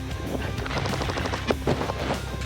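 Airsoft guns fire in rapid, continuous bursts during a military brigade's training assault exercise, dense and loud, with overlapping shots and no pause.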